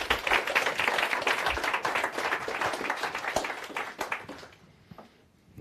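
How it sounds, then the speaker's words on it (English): An audience at a mentalism show applauds, a dense burst of many hands clapping at once that carries on steadily before thinning out and fading near the end. "Give Anita a big round of applause"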